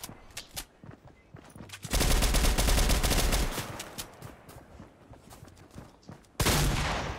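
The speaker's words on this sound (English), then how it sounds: "Aw, he shot me." Rapid automatic gunfire in a Fortnite squads match: dense bursts of shots roughly from 2 to 3.5 seconds, then a second loud volley near the end, with scattered lighter shots and game noise between.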